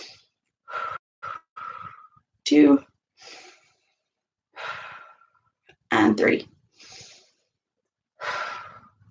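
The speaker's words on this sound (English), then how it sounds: "Can you take 3 deep breaths with me?" Three slow, deep breaths in and out from a group during a live ocean lesson, each a soft airy inhale and exhale, spaced between a speaker counting them off aloud.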